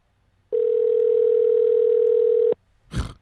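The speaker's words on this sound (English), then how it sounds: "Listen to that sound. This is Skype." A Skype call tone during a live stream sounds as one steady, loud electronic tone lasting about two seconds and then cutting off, followed by a short burst of rustling noise.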